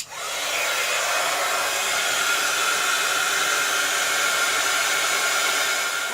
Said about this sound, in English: And then what's left I'm going to dry with the heat gun.